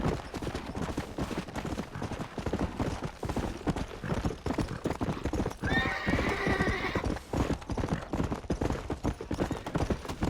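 Hoofbeats of a galloping horse in the Red Dead Redemption video game drum in a fast steady rhythm, with a loud whinny rising midway and faint gunfire mixed in behind.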